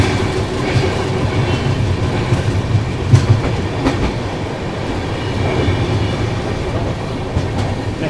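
A double decker train runs on rails between Chennai and Bangalore, its steady rumble and rhythmic clickety-clack of wheels filling the whole stretch, loud and continuous with no talk.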